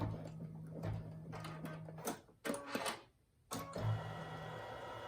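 A home embroidery machine stitches placement lines at the bottom of the hoop for an in-the-hoop pen holder. It gives a close, rapid mechanical chatter over a steady motor whir, with a brief quiet gap midway before the stitching resumes.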